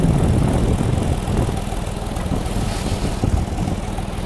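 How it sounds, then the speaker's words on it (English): A farm tractor engine runs loudly nearby on a compost-spreading job, a rough, steady low chugging with no talking over it. "When they hear the tractor, it's the dinner bell."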